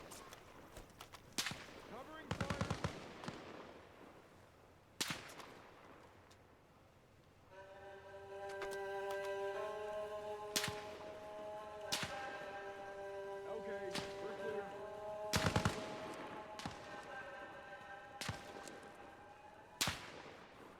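Gunfire in a first-person shooter video game: sharp cracking shots scattered irregularly, some in quick bursts, near and loud, over a sustained mechanical drone in the middle stretch.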